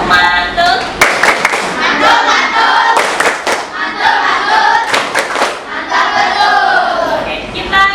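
A classroom group claps the rhythmic tepuk mantul icebreaker, loud sharp patterned claps in bursts mixed with children's voices chanting along.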